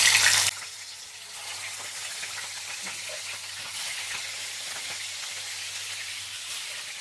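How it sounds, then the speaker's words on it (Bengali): Katla fish pieces fry in hot oil for a Bengali doi katla curry, a steady, even sizzle with faint crackles close by, after a brief louder burst at the start, no speech. "মাছগুলো আমার ভাজা হয়ে গেছে।"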